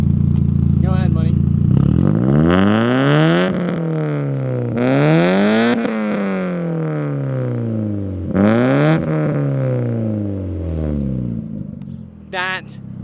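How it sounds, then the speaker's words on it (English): A Mazda NA Miata fitted with a Manzo exhaust revs hard several times, each pull climbing sharply toward high RPM and falling back, loud and close, with brief voices in between. "I'm gonna have Money rev the car real quick, and so you guys can hear what it sounds like revving up and in those higher RPMs"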